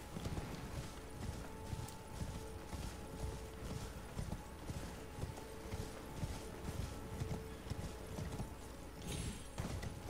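A horse gallops steadily in the open-world game Elden Ring, its rapid clip-clop hoofbeats loud and continuous throughout, with no talking over them.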